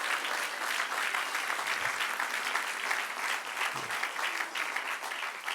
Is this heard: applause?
yes